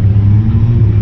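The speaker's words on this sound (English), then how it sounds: "Here comes Abel in the RX-8" A Mazda RX-8 race car passing by on track, a steady close engine rumble that holds loud through the moment with no talking.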